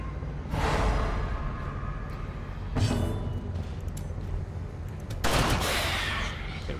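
Flashbang skill from the video game Darkest Dungeon: a sharp burst with a hissing, crackling tail near 0.5 s, followed by two more loud bursts around 2.8 s and 5.3 s over a steady, dense game soundscape.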